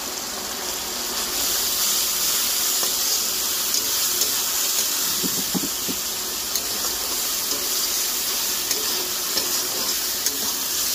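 Chicken curry masala fries in a pan with a steady close sizzle, while a spoon scrapes and stirs through it and gives a few brief knocks.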